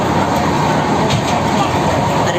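A superfast express train running at around 100 km/h, heard from inside as a continuous loud roar and rumble with broadband rail noise and no distinct pauses.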